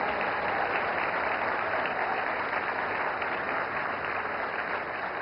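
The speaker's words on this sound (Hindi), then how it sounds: "जोरदार तालियां" Steady, dense applause from a big audience at India's 70th National Film Awards ceremony, an even wash of clapping that holds at the same level throughout.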